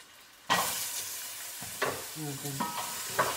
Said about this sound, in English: I'm just going to stir that around a bit. Just to infuse everything really.